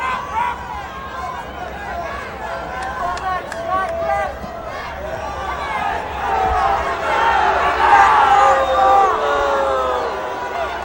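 A crowd at a 1986 New York state high school wrestling final yells and shouts at a stalling wrestler. The noise swells louder partway through, and a commentator talks over the din.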